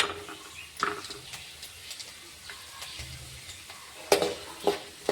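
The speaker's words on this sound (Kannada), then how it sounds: "ಸ್ವಲ್ಪ ಜೀರಿಗೆ ಸ್ವಲ್ಪ ಸಾಸಿವೆ ಚಟಪಟ ಅಂತ ಸೀರೆನ ಈರುಳ್ಳಿ ಹಾಕೊಳ್ಳೋಣ" Cumin and mustard seeds spluttering in hot oil with onion added, a soft steady sizzle broken by scattered sharp pops and occasional spoon clatter against the pan.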